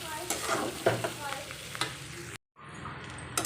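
Steady sizzling of bitter gourd frying in a pan with occasional stirring scrapes, broken by a brief silence before the frying resumes.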